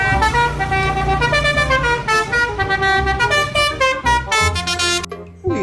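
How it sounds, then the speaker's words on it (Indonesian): A toy telolet bus horn plays a loud, rapid melodic sequence of bright tooting tones, changing pitch in quick succession, then cuts off abruptly near the end; no talking. "ternyata ada bus telolet"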